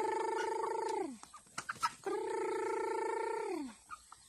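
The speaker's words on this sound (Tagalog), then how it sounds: "Mo ni ang mga manok dire guys, oh." Chickens and a rooster call loudly and close by, giving two long, sustained calls that fall in pitch at the end, with short clucks in between and after.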